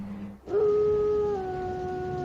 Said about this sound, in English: Wolf's going nuts. How close does that sound?